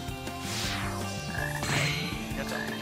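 Repeated frog croaks from Sonic Heroes gameplay sound over a continuous game music bed, a steady series of loud, close calls running through the whole stretch.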